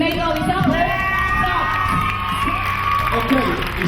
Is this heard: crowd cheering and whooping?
yes